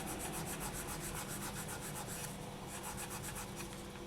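600 grit sandpaper rubs across a polymer clay surface in quick, even back-and-forth strokes, a close, continuous scratchy rasp with no talking.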